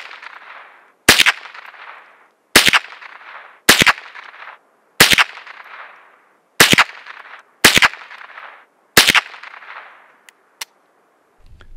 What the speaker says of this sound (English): So I shot all the plates and I got everything in the bullseye.